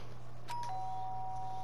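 A doorbell rings with two clear chiming tones in quick succession, the second note ringing on and fading slowly over a low steady hum, close and distinct with no voices.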